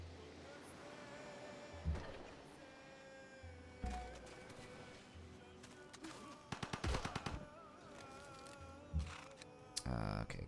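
Rapid mechanical bursts of Gatling gun fire in a turn-based strategy game, short rattling volleys at intervals over a steady musical background, the densest burst near the middle.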